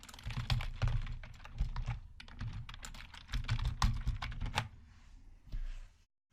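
Fingers tapping out short print commands on a computer keyboard, bursts of quick, close clicky keystrokes separated by brief pauses, with no talking over them.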